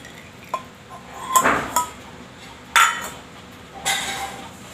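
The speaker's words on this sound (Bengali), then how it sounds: "এবার আমি সিসিতে ঢেলে দেবো" Homemade ghee poured into a glass bottle, with a few sharp clinks of a metal pan or spoon against glass spaced a second or so apart, close and clear in a quiet room.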